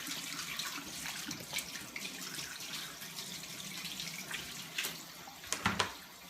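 Water runs steadily from a tap into a sink as hands are washed, a close, continuous splashing hiss with a few louder splatters near the end and no talking.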